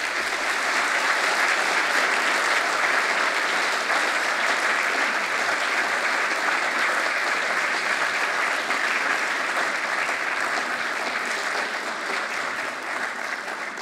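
A lecture audience applauds at the close of an evening talk on conservative foreign policy, sustained even clapping from a large hall crowd, loud and unbroken for the whole span with no speech over it.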